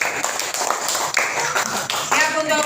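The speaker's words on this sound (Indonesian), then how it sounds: "tepuk tangan untuk semuanya" Students in a classroom clap their hands together in a quick, steady burst of applause, close and lively, with voices mixed in throughout.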